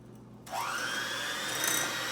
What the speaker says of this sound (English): So what you can use, hand mixer.